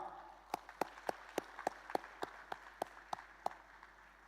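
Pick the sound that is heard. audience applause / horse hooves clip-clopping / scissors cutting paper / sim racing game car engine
audience applause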